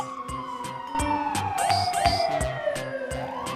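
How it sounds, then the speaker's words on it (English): A fire engine's wailing siren sweeps up and down over a busy street, with rhythmic clanging and clattering and crowd noise around it. "It's the sound of a fire engine."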